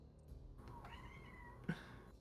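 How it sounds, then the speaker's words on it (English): A single cat meows nearby, a short rising and falling call near the end of a quiet, otherwise still stretch, fairly faint and alone with no talking over it. "Oh, I heard the meow."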